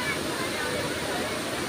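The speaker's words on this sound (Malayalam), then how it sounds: "എടുക്കുന്ന വെള്ളം വരുന്ന നല്ല സൗണ്ട് ഉണ്ട്" Water roars down Meenmuttil waterfall in a dense, continuous rushing wash, close and loud, with faint crowd murmur mixed into the steady flow.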